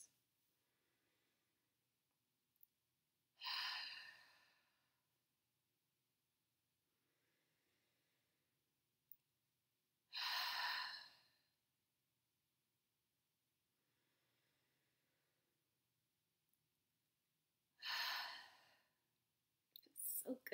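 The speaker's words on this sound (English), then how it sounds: "So I'm going to take about 3 or 4 of those intentional breaths." Three deep, deliberate breaths drawn through full lungs during a body-scan relaxation, each a long airy rush spaced several seconds apart against a very quiet room.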